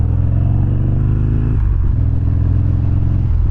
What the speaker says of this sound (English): Typical Sportster fashion, definitely likes to rev.